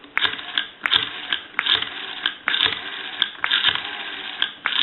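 Rotary dial of a Western Electric Spacesaver telephone being dialed, a series of clicking ratchet bursts as the dial winds and returns, repeated several times in an uneven rhythm, close and fairly quiet with no voices.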